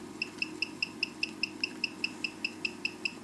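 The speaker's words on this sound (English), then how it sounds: "The handset continues chirping for a short time but switches itself off." Truma caravan mover handset chirping in a steady, regular series of about sixteen short, high electronic beeps, evenly spaced and fairly faint over a low background hum.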